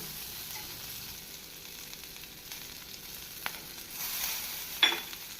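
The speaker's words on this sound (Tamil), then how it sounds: "வெங்காயம் இப்படி வதங்கி வரும் வேளையில் நாம் நறுக்கிய 1 தக்காளி பழத்தை சேர்க்க வேண்டும்." Onion and tomato sautéing in a pan for a traditional Tamil garlic gravy give a steady soft sizzle, with a slight rise and a brief clatter near the end.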